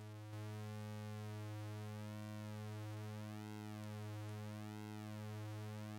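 A synthesizer pulse wave with its pulse width swept by an LFO gives a steady buzzing tone whose brightness slowly swells and recedes in a regular cycle, heard alone with no talking.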